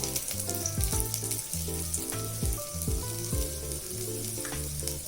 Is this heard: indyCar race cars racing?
no